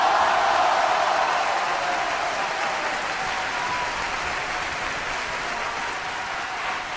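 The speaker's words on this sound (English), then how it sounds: "Let's do the clapping." A clapping emote in PUBG on PlayStation 4 sets off dense, continuous applause. The clapping is loudest at the start and eases slightly over several seconds, with no voices over it.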